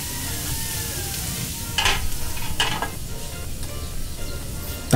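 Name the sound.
squid being stir-fried in a pan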